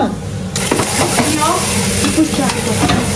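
Onions and egg are stir-fried for pad thai, with a hiss that bursts in abruptly and then holds as a steady, crackling sizzle, broken by scraping stirs, while voices talk in the background.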